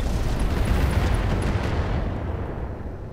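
Mech weapons in the Roguetech video game firing on a target: a loud, dense roaring blast of explosive fire that swells and then slowly tapers off.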